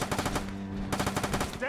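Rapid automatic gunfire in the video game Fallout 4, a fast, loud burst of close shots, a brief lull, then another stuttering volley, with a voice faintly present.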